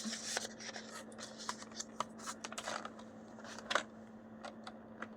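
Paper being trimmed for a Cocoa Daisy standard notebook setup, giving a run of light, close crisp cuts and rustles at an uneven pace in a quiet room with a steady low hum.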